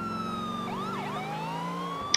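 A police car siren in the video game GTA IV wails loud and near, with rising and falling sweeps over a steady engine drone, then cuts off abruptly at the end.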